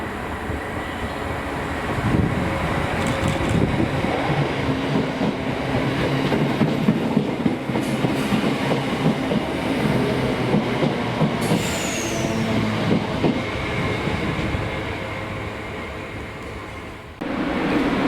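Freight train 5Z66 hauled by unit 325004, a mail service from Shieldmuir Mail Terminal to Mossend Down Yard in Scotland, rumbles past nearby with steady loud wheel clatter and faint squeal throughout, easing off near the end.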